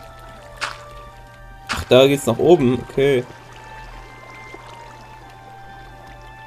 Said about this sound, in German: So, tun wir mal hier dieses Wasser hier abfließen lassen.